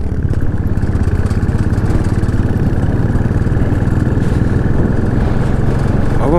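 Motorcycles being ridden fast on a mountain road near Kagbeni in Nepal's Mustang region, a continuous loud, rough engine drone close to the microphone that holds steady throughout with no pauses.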